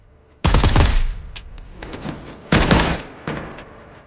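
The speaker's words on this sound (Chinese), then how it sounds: "周围传来了密集的枪声" Bursts of dense gunfire ring out in an action film shootout at a drug gang's warehouse, two sharp rapid volleys separated by scattered single cracks and a fainter later burst, loud and close.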